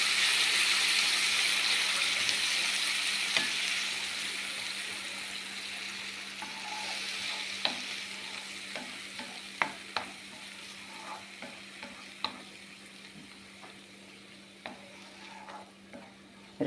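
Karam chutney frying on a slow flame in a pan, a soft steady sizzle under scattered sharp clicks and scrapes of a spoon stirring, quiet and close with no talk.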